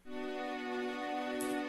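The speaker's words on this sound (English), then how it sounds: "I have LFO on the pitch, a very, very subtle thing which makes the pitches go up and down" A sustained buzzy pulse-wave synth note with a very subtle LFO on pitch giving a slight wobble, a gently moving, slightly warmer held tone.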